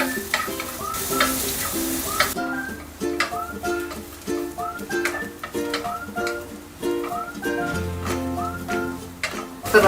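Squid stir-fried Indonesian style in hot oil, with a steady crackling sizzle and occasional stirring scrapes in the pan, close and continuous for around ten seconds.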